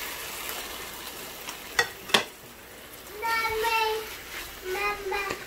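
Chicken pieces frying in butter in a pan, a steady sizzle throughout with a couple of sharp utensil clicks on the pan and voices talking over the cooking.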